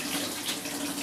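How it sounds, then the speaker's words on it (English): Tap water runs steadily into a sink while hands are washed, a close, continuous splashing hiss with no voices. "I have to wash my hands as well"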